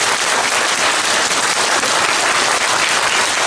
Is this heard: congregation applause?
yes